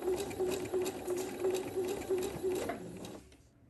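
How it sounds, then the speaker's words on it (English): A sewing machine stitching quilt pieces with a 1/4 inch seam, running in a steady fast whirring chatter at close range for a few seconds before stopping abruptly. "Do my 1/4 inch seam allowance."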